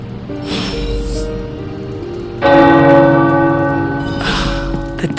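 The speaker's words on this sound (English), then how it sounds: "The tower bells are ringing." Tower bells in Marvel's Midnight Suns peal in sustained, ringing tones that swell louder partway through, with bright overlapping strikes and a steady hum beneath, heard alone without speech.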